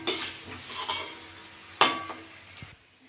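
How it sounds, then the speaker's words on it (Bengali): Banana flower chops fry in oil and are turned over, with a soft sizzle under scraping stirs and a sharp clack of a utensil against the pan partway through. "এগুলো উল্টে পাল্টে ভালো করে ভেজে নেব"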